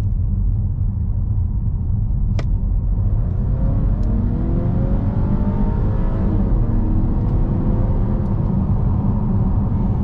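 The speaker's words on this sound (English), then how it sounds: "we'll get it to 25 and mash the throttle and see what happens" A 2023 Volvo S90's two-liter turbocharged and supercharged engine accelerates at full throttle from about 25, its close, loud drone rising steadily in pitch over a constant road rumble.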